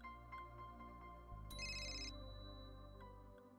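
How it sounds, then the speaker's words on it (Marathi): A phone ringtone sounds for an incoming call, a steady repeating electronic melody with a brighter high burst partway through, close and clear over a low hum, with no talking. "मला आदित्यचा फोन येतोय."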